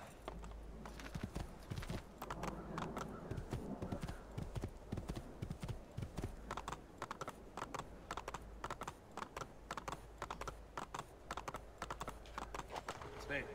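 Steady clip-clop of horse hooves in the video game Assassin's Creed II at a brisk, even rhythm, with a low background drone throughout.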